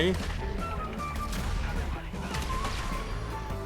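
A tank's cannon and gunfire in GTA V with a Superman mod thud and crash amid busy game noise, repeated impacts under a steady roar, with someone talking over it.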